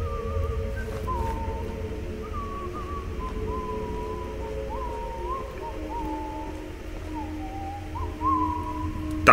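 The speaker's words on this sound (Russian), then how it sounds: "Хорошо, что хоть они обозначают себя с помощью свиста." Guards in the video game Choo-Choo Charles whistle a wavering, sliding tune that repeats on and off over a low, steady ambient hum, fairly faint and at a distance.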